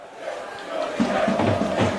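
Football crowd noise at Marconi Stadium in Bossley Park for a Marconi Stallions versus Sydney United 58 NPL NSW match, a steady broad murmur that swells with bursts of shouting partway through.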